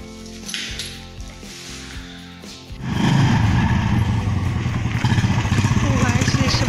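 A Royal Enfield Bullet motorcycle loaded with luggage is kick-started: after a quieter stretch with tonal background sound, the engine catches and settles into a loud, steady, rumbling idle close by.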